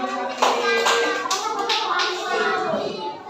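Schoolchildren in a classroom clapping their hands together on cue, a short burst of several quick claps mixed with young voices speaking at the same time.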